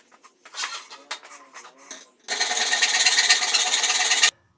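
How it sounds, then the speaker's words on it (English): A hacksaw cutting aluminium by hand for a costume build: a few scattered scrapes and knocks first, then about two seconds of fast continuous rasping strokes that stop abruptly, close and fairly loud. "I'm going to hacksaw the two pieces off."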